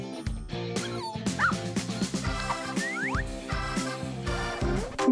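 A rescued stray puppy being washed whimpers and yips in high, wavering cries, repeated several times close by amid splashing water.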